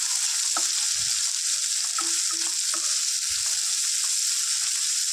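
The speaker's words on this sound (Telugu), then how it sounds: "ఇది ఒక టూ మినిట్స్ ఫ్రై చేసుకుందాం" Onions and green chillies frying with cumin in a pan, a constant high sizzle with occasional soft scrapes and taps of a spoon stirring them.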